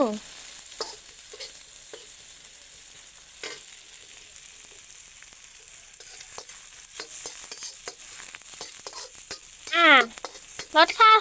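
Oil sizzles in a pan, frying ingredients until golden before pork is added, a steady moderate crackle with stirring scrapes and clanks; a voice murmurs briefly near the end.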